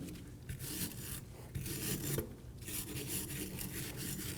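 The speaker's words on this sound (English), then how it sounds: "We're going to clean our caliper bracket with a wire brush." A wire brush scrubbing a brake caliper bracket on a 2018-2024 Volkswagen Tiguan, close harsh rasping strokes in steady back-and-forth bursts with brief pauses between, no voices.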